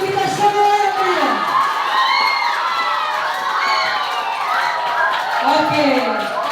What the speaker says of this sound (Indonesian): tepuk tangan untuk kita semua yang meriah